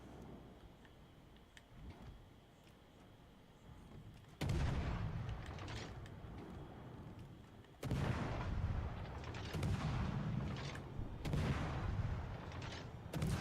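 Naval guns fire in World of Warships Legends as heavy booming salvos, two big blasts and several more rolling shots over a steady rumbling sea and engine bed, fairly loud with no talking.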